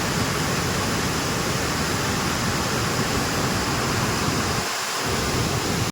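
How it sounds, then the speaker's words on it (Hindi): Water from an opened dam gate in Munnar, Kerala gushes in a steady, loud, broadband roar that fills the whole stretch without pause, with no voices over it. "ये जो इसका बांध खुला हुआ है और कितनी ज़ोर से इसमें पानी आ रहा है"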